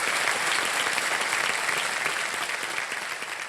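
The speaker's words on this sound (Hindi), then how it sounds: "वाह, बहुत बहुत तालियां बज जाएं इनके लिए।" Studio audience on a television quiz show applauds a contestant with dense, steady clapping and crowd noise throughout, moderately loud and unbroken with no talk over it.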